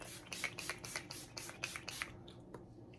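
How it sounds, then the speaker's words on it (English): Rapid series of short, soft makeup setting spray bursts, about eight quick pumps in a row, close by and faint, followed by a few quiet taps. "taking my Urban Decay, this one is the Chill Makeup Setting Spray"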